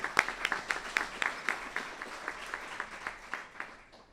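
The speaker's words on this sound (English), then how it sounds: "so another round of applause for him" Small audience at an internal medicine resident graduation giving a round of applause, a sparse group of distinct claps in a quick rhythmic pattern, fairly close and soft, fading toward the end.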